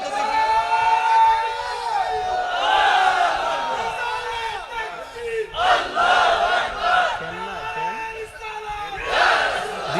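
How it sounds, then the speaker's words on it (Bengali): A large crowd at an outdoor religious sermon shouts a slogan in unison, loud rising and falling chant waves with a leading voice calling out between repetitions, echoing over a loudspeaker. "আরো জোরে কোন একটা স্লোগান লন তো দেখি"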